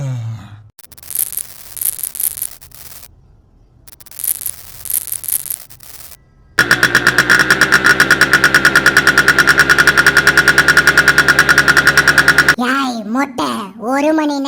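A cartoon vehicle engine running while driving around makes a loud, buzzing drone with a rapid regular pulse for about six seconds. Sparser sounds come before it, and a wavering tone follows.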